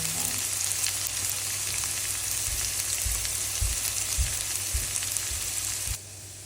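Whole dried red chillies fry in hot oil as tempering for an okra stir-fry, giving a dense, continuous close sizzle with a few soft knocks, easing off near the end.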